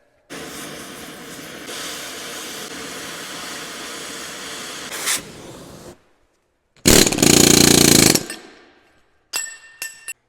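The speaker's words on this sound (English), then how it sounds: "So I did have to resort to the torch to go ahead and smoke this thing off here." A torch being used to burn a midship bearing off a truck driveshaft: a steady roaring hiss for several seconds, then a louder, harsher burst of flame roar, followed by short sputtering bursts, close with no talk.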